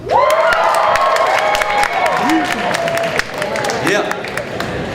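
A school assembly audience cheers, shouts and whoops loudly, with scattered clapping, for several seconds before the noise slowly dies down.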